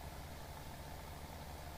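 Tractor engine straining at full throttle in the Farming Simulator 17 video game, a steady low droning hum with constant vibration, moderately quiet and unbroken, no talk.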